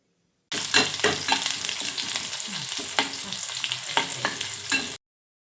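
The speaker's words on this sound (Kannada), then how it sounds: "ಈಗ ಇದಕ್ಕೆ ಸಾಸಿವೆ ಬೆಳ್ಳುಳ್ಳಿ ಬೆಳ್ಳುಳ್ಳಿ ಫುಲ್ಲು ರೋಸ್ಟ್ ಆಗಬೇಕು" Mustard seeds, garlic and chillies crackle and sizzle in hot oil for a tempering, a steady close frying hiss broken by sharp pops and spits, with a few brief stirring scrapes.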